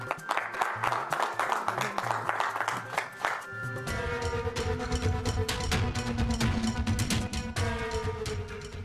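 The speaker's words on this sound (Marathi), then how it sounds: "एकदा जोरदार टाळ्या होऊ जाऊ देत या विनिंग जोडीसाठी" Audience applause for a winning couple at a televised stage event, sustained clapping from a crowd alongside loud music that swells partway through.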